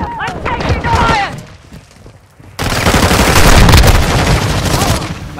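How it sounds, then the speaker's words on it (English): Gunfire in Modern Warfare II during a Domination match, with loud bursts of automatic fire and heavy booms. Voices shout over a rattling, sustained barrage that grows denser after a brief lull. "I'm taking fire!"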